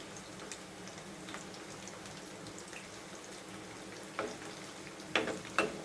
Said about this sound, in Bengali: আগুনটা একবারেই কম আছে, ভাজতেছি, অপেক্ষায় থাকুন।